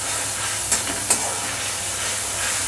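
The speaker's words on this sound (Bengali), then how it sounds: "এটা অলিভ অয়েলে করছি, একটু পেঁয়াজ রসুনের পেস্ট দিয়ে দিলাম" Onion and garlic paste frying in olive oil, a constant close hiss and sizzle with two brief crackling spatters, no talking.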